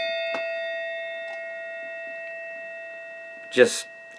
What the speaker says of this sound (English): I have a very large brass bell.